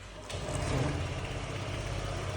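A Honda PCX125 scooter under repair is started: a brief starter whir, then the small engine catches and runs at a steady, close idle that hums along alone for a couple of seconds.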